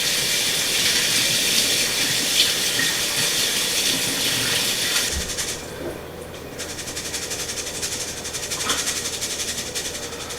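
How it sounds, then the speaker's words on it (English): Running tap water pours steadily over rice in a sieve, a loud, close, continuous rushing splash that briefly drops and changes tone midway before resuming. "I've added the rice into my sieve. And now let's go ahead and let's rinse it."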